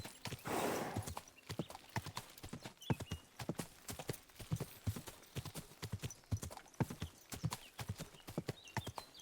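Horse hooves clip-clopping in a steady trotting rhythm while riding toward a forest in Kingdom Come Deliverance 2, close and clear, with a brief snort or whinny at the start.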